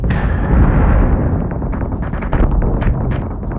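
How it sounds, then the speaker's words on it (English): Sustained weapons fire from space combat in the Battlestar Galactica Deadlock video game, a dense continuous roar of booming blasts and rapid impacts that stays loud throughout. "We're taking sustained fire!"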